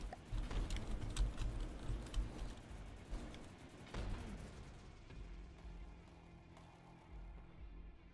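Staggered cannon fire from a warship in From The Depths, a rapid string of booming shots in quick succession that thunders loudly, then fades into a quieter rumble.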